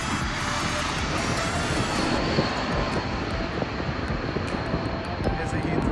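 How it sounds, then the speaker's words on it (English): An aeroplane flies low near Heathrow Airport in London, its engine roar and rushing noise spreading broadly and steadily overhead while people talk nearby. "Aeroplane!"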